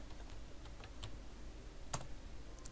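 Typing on a computer keyboard while entering text into an Excel search box, a few scattered light key taps at an uneven pace and one sharper keystroke, faint over a steady room hum, no talking.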